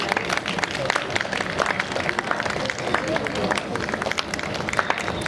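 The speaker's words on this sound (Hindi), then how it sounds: "ज़ोरदार तालियों के बीच स्वागत कीजिए" A house-concert audience at a private residence claps steadily to welcome ghazal singer Pankaj Udhas, a dense patter of hands with a host's voice speaking over it.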